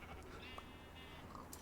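Sheep bleating in the video game Minecraft, a brief high wavering bleat at moderate level over a low background bed, heard alone without talk.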